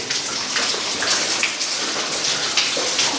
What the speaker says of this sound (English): There's the water pouring off there.